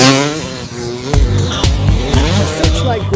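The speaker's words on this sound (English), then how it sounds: "this peaceful settlement wakes to the roar of engines." Off-road race vehicles roar at the Searchlight Grand Prix, a loud close engine whine climbing in pitch, then rough bursts of revving and throttle as machines pass.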